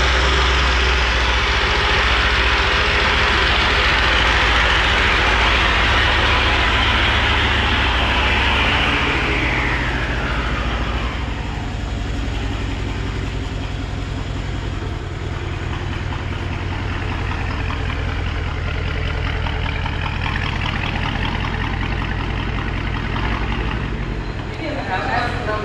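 A BMW F30-series 3-litre M car with a replaced aftermarket exhaust rumbles steadily and loudly close by, a deep idle with a rushing, revving surge early on that settles into a steady drone, while people talk over it.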